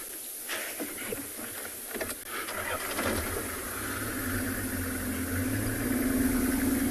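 A safari vehicle's engine rumbles as it drives along a dry riverbed in South Africa, a low, steady motor drone that builds and grows louder over several seconds, with scattered knocks and rattles early on.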